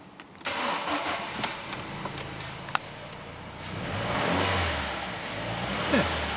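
An Audi A4 engine cranks and fires, then settles into a medium idle with a gentle rise in revs, close by and steady, with a few clicks along the way.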